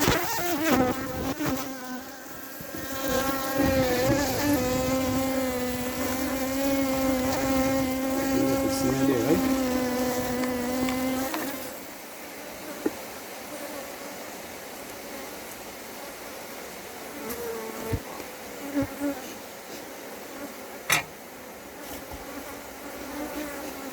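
Bees buzzing around a strong beehive outdoors, a dense close droning hum for about ten seconds that drops to a fainter scattered buzz with occasional knocks.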